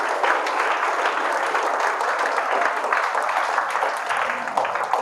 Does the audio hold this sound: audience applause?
yes